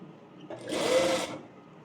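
Sewing machine stitching a blouse seam up to the dart, a steady burst of motor whir of about three-quarters of a second rising and falling, close and alone with no talk.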